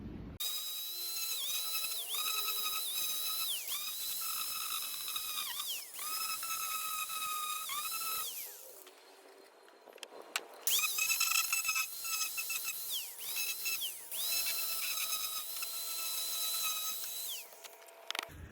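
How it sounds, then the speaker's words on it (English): An angle grinder shaping the edges of a wooden sail canoe rudder in place of a router, whining loudly in long sustained passes that dip in pitch under load, stop briefly near the middle, then resume. "I'm essentially just routering the edges, but since I don't have a router, I'm using my grinder on it."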